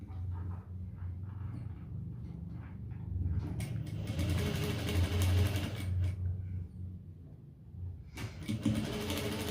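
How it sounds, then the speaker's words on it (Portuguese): Sewing machine stitching a patchwork cloth bread cover made from sacking fabric, a steady close motor whir that continues with small changes in pace and a brief pause near the end. "vou costurar de novo"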